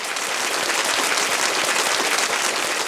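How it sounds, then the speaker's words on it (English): Sustained applause fills the clip, a dense steady patter of clapping opening a marriage podcast, even in level throughout. "I felt like my applause was slightly longer than yours."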